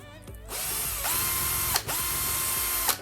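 A power drill spins a stick against sandpaper to take burrs off its end, making a steady loud whine in three bursts with brief pauses and a rising spin-up at the start.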